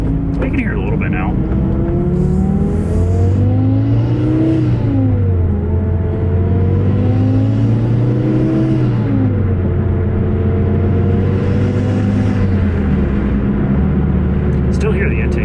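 A 2007 Mazdaspeed3 fitted with an HKS exhaust driving on the road, its engine note rising and falling steadily through gear changes, a fairly quiet, smooth drone up close from inside the car with some intake whoosh.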